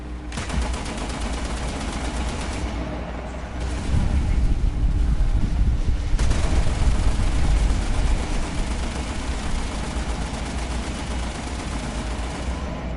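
Sustained .50 cal machine gun fire in War Thunder, a dense continuous rattle of rapid shots over wind noise, growing louder midway and staying steady, with a person talking throughout.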